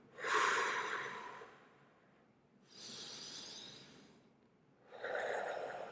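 Deep breaths drawn through the nose during a calming breathing exercise, three slow airy inhales and exhales, close and quiet, with no talk over them.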